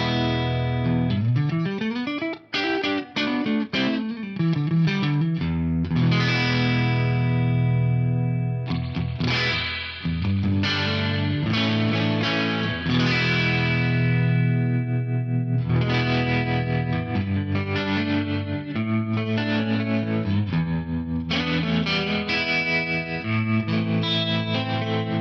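Electric guitar through a Fractal FM9 in a clean tone with split pickup, playing chords and single notes at steady volume, without words, with a bright, slightly shimmering sustain.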